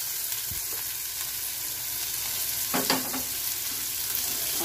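Potatoes, already salted, fry in a pan for chilli potato, giving a constant close sizzle. A couple of brief utensil scrapes cut through near the start and again around the three-second mark.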